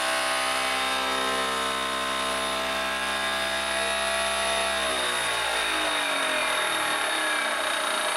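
Crankshaft inertia force testing rig running with oiled bearings, a loud close mechanical whirring drone with steady harmonic tones that shift and wind down in pitch toward the end, with no voices over it.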